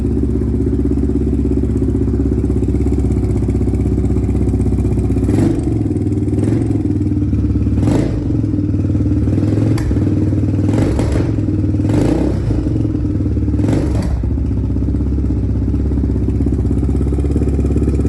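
A 2007 Honda 400ex ATV engine runs loud and close with a steady throb, broken by several sharp clattering bursts and brief revs.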